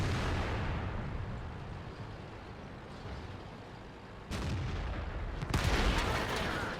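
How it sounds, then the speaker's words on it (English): Shells ricochet off a T57 heavy tank in World of Tanks, giving a sustained harsh rumble broken by two sharp metallic impacts in the later seconds. "Listen to the sounds the new shells make when they're bouncing off this tank."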